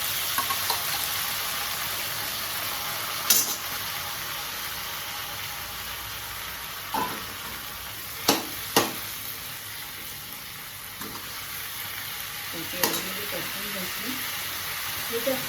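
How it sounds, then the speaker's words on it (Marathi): Boiled roselle (ambadi) leaves sautéed in a pan, a steady soft sizzle with a few sharp clinks and scrapes from stirring scattered throughout. "आता शेवटी सगळ्यात आपण ही भाजी परतून घेणार आहोत"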